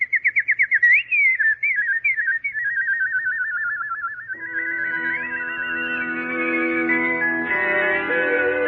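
A nightingale's song, rendered as a whistled imitation in a radio fairy-tale drama: rapid trilling warbles and gliding notes, then joined by soft orchestral accompaniment that swells beneath the melody.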